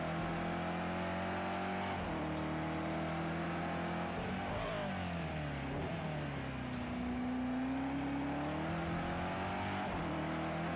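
A BMW M6 GT3 race car at Bathurst in Project Cars 2 roars continuously near flat out, the engine note holding high and dipping and climbing through gear changes, with a faint whine above and no talk.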